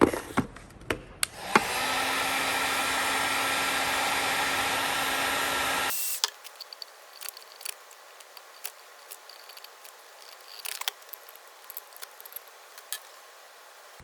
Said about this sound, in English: I'm gonna just apply a little more heat to these, soften them up some more